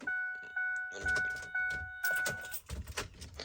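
Key turning in the ignition of a Ford F-150 pickup truck, with chimes repeating at a steady rhythm and clicks and jangling keys, followed by rustling movement in the cab; no talk.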